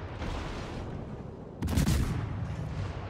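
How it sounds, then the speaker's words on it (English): A Fletcher destroyer's naval guns fire in the World of Warships naval battle game: a low rumbling bed of noise, then a sudden loud, booming volley partway through that rolls off into a heavy rumble. "there is the Fletcher shooting me"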